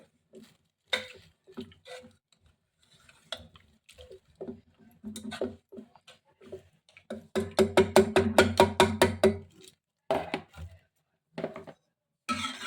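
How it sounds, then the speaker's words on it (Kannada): Cooked lentils, gongura-style greens and tomato being mashed in a pot for sambar, heard as irregular close knocks and taps of a masher, then a fast rhythmic run of about a dozen strokes before slowing again. "ಗೋಳಿ ಪಲ್ಯ ಟೊಮೆಟೊ ಬೇಳೆ ಒಂದು ಸ್ವಲ್ಪ ನಾವಿದು ಮ್ಯಾಶ್ ಮಾಡ್ಕೊಳ್ಳೋಣ"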